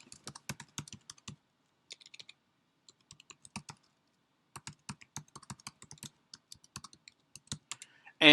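Rapid bursts of typing on a computer keyboard, close and clear, with short pauses between clusters of key clicks and no talking.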